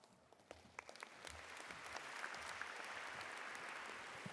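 Applause from a William & Mary graduation crowd honoring the class of 2020, starting with scattered claps and swelling into sustained, even clapping, heard at a distance and fairly soft.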